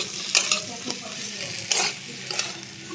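Onions with salt frying in a pan while being stirred, giving a continuous hissing sizzle with a few distinct scrapes of the spatula against the metal, close and alone.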